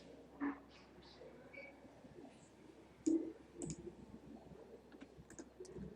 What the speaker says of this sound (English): Reduce this number by right-clicking press hold and dragging the mouse down.